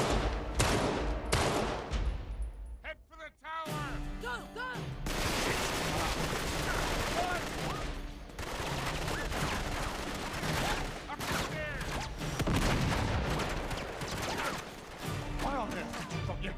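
Rapid gunfire rattles through a firefight in Uncharted 3, dense bursts of shots with metallic clatter running almost continuously, briefly thinning before resuming loud and chaotic, with voices shouting over it.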